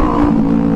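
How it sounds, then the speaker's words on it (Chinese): A motorcycle with an illegally modified, loud exhaust drones at night at a roadside noise checkpoint, a steady, harsh engine tone that is loud and close throughout. "前方机车排气管噪音相当刺耳"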